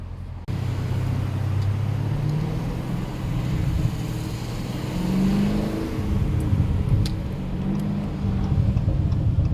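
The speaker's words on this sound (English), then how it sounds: "I hear the burbles" A 2019 Dodge Challenger Scat Pack Widebody rumbles from inside the car with a low, steady exhaust note that swells in a few rolling burbles as it accelerates and eases off.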